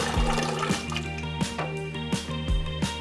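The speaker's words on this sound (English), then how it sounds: "I like to fill up the pot halfway with cold water." Cold tap water runs steadily into a cooking pot being filled halfway for boiling macaroni, a continuous splashing gush with a few sharper drips and surges throughout, close and fairly loud with no talking.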